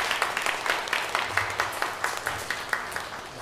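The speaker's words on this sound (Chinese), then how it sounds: "咱搁一届嘛来拍手来欢迎" Church congregation at a Sunday Taiwanese-language worship service applauding in welcome, a steady patter of hand claps throughout with a faint low murmur beneath.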